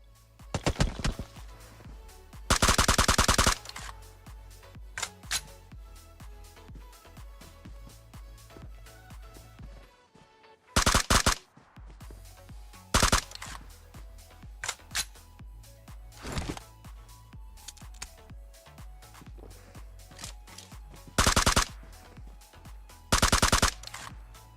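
Rapid bursts of automatic gunfire and single shots in a PUBG Mobile match at a community-stage esports event, loud sustained volleys breaking out repeatedly over a steady background of game ambience and music.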